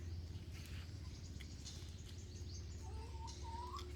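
Small birds chirp now and then on a chilly winter morning, thin short calls over a low steady rural hum, faint and a little distant, with no talk.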